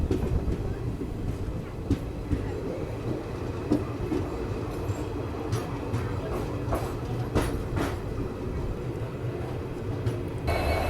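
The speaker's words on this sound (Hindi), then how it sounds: "ये जो आप ट्रेन देख रहे हो ये डाउन वाली ट्रेन है" A down passenger train hauled by a WDP4D diesel locomotive passes close by on a scenic line near the Bhutan border, heading from Bamanhat toward Siliguri. There is a steady heavy rumble and roar, with repeated sharp wheel clicks throughout.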